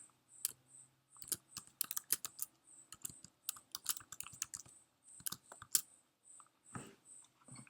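Quiet, close computer keyboard typing and mouse clicks in irregular bursts, with sharp individual key taps separated by short pauses and one softer rustle near the end.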